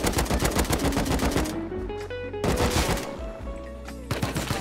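Rapid bursts of automatic gunfire in the video game Rust, loud and close, with dense clusters of shots separated by brief pauses and a low droning hum underneath.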